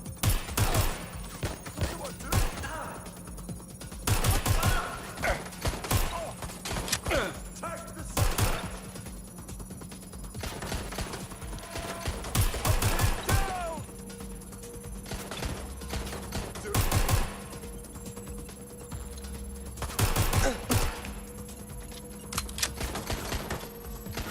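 Gunfire from the video game Watch Dogs: Legion rings out in repeated sharp bursts and volleys across the stretch, standing out over a steady electronic hum and game soundtrack.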